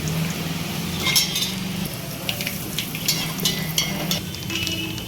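Dried red chillies, turmeric and asafoetida sizzle in hot oil for a tempering for spinach dal with raw mango, a steady close crackle with light utensil clinks.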